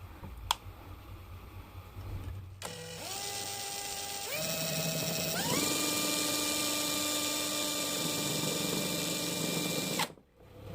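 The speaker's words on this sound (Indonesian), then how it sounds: "Langsung ya saya putar dengan kecepatan maksimal bor ini ya." A power drill spinning at maximum speed, driving a small generator, whirs steadily, its pitch stepping up twice before holding a loud, sustained whine, then cutting off abruptly.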